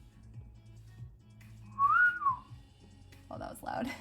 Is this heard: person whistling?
yes